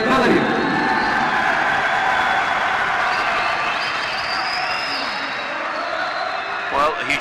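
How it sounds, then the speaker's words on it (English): A crowd at a boxing medal ceremony cheers and applauds, a broad roar filling a large arena that fades slightly near the end, with a voice over it and a faint whistle-like tone. "a huge cheer from the crowd"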